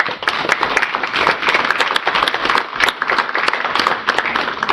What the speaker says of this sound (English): Please give Officer Godkin a round of applause.